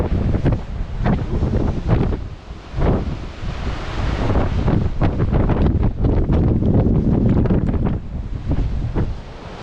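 Wind buffeting the microphone over white-water waves breaking on the coast along the South West Coast Path, a constant loud rush with surges of surf.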